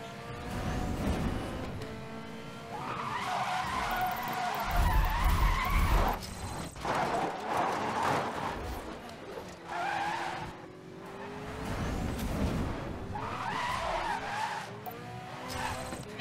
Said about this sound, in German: Jetzt kann ich zeigen, was ich driften kann hier.